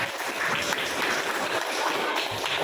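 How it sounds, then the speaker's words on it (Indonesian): Applause from a class of students at the end of an Islamic communication lesson, a steady wash of many hands clapping together, moderately loud and continuous throughout without talk. "Tepuk tangan untuk kita bersama"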